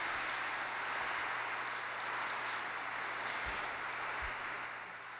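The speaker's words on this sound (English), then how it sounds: "join me in giving them a round of applause" Sustained applause from the audience at a civic forum on mental health services in Central Oregon, a steady dense wash of clapping with no talk over it.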